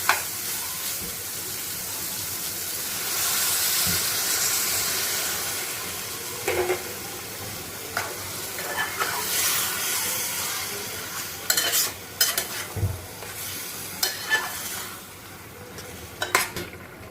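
Soya chunk gravy bubbles in a pan, with a steady hiss and simmer broken by sharp clinks of a spoon or ladle against the metal, louder toward the end.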